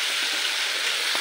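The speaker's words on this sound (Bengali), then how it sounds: "একটু জল দিয়ে এটা আলুটা কষানো হচ্ছে।" Potatoes for a Bengali fish curry are sautéed in a pan with a little water, giving a brief, steady sizzling hiss with faint scraping ticks.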